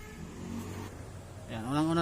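A hard-starting, misfiring Snapper lawn mower engine is cranked and catches, rising into a steady droning run after someone speaks briefly over a low background.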